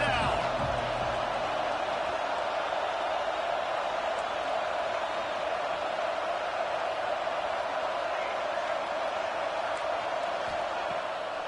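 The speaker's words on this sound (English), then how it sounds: "This Auburn crowd trying to conjure up a little magic here on 3rd down." An Auburn football stadium crowd roars in a steady, dense wash of cheering and noise on third down, continuous and loud throughout.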